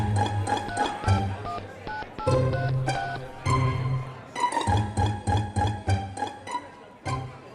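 A landline telephone being dialed, with a steady rhythm of button tones and clicks for several seconds and no talking.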